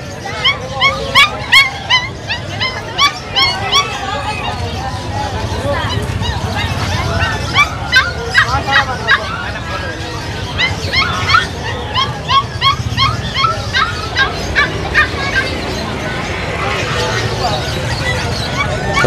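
Puppies at the Bocaue pet market yip and bark in quick, repeated bursts close by. A busy market crowd babbles underneath, and some high whimpers mix in with the barks.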